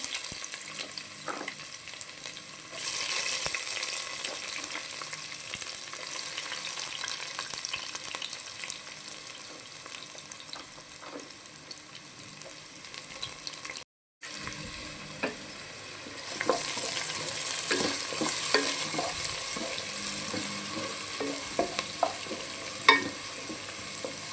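Sliced onion fries in hot oil with curry leaves, cumin and garlic, giving a continuous close sizzle broken by scraping stirs. It cuts out briefly midway, then returns louder and brighter.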